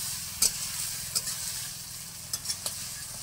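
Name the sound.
stirring food frying in a pan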